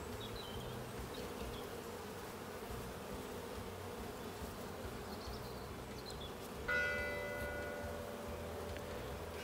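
Buzzing insect wingbeats over a beehive frame, an Asian hornet passing close among honeybees, a constant low droning hum with a brief louder tonal pass near the end, no speech.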